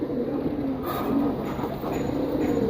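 A pigeon coos steadily at close range, a low soft warble repeating without pause.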